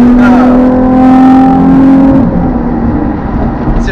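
Nissan 350Z engine revving inside a tunnel, a loud close metallic rising tone that holds and then drops, with the sound reverberating off the tunnel walls.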